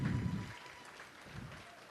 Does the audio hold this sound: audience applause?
yes